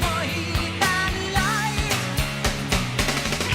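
A passage from a song, following the guitar solo where the key modulates: full band rock music with steady drums, bass and layered guitar and vocal melody, loud and continuous with no talking.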